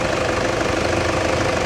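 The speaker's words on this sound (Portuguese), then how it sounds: "aqui nós estamos ouvindo a melodia do motor dele aqui" A Toyota Hilux pickup engine runs steadily at idle, close and loud, with a continuous low rumble and knocking mechanical chatter that holds even throughout, with no talk over it.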